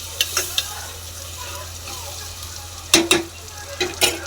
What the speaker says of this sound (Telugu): ఫ్రై అవ్వనివ్వాలి. మిల్ మేకర్స్ వేసుకున్నాం.